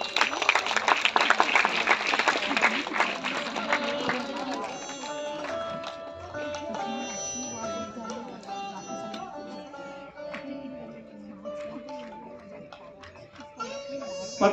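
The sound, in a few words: applause from audience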